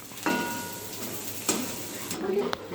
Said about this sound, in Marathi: आता कांद्याला लालसर रंग येऊस्तर आपण परतून घेणार आहोत.